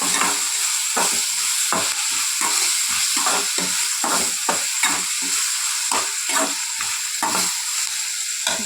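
A spoon stirs and mixes a vegetable mixture for veg momos in a frying pan, giving continuous sizzling frying under repeated scraping strokes, close and steady throughout.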